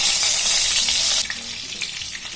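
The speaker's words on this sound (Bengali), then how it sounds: "এবার পটলগুলোকে নেড়ে চেড়ে ভেজে নেব।" Pieces of pointed gourd (potol) fry in mustard oil in a frying pan, a loud, close hiss of sizzling that eases partway through while the pieces are stirred, with no talking.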